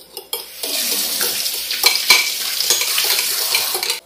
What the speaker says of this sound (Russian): Теперь замешивай яйцо наше, взбалтывай.